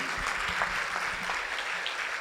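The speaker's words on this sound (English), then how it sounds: "we will clap our hand for all the management because they work hard on you" An audience at a student awards ceremony in Dubai claps for the management, a dense sustained round of applause from many hands filling the room evenly at moderate loudness, with no talk over it.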